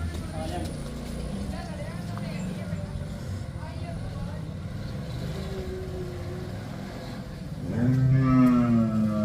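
After a stretch of background murmuring and outdoor noise on a dairy farm, a Sahiwal cow gives one loud, close, drawn-out moo near the end.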